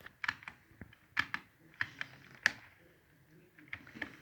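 Irregular bursts of keyboard typing, clicky keystrokes in uneven clusters with short pauses, fairly close and moderately quiet, no talking.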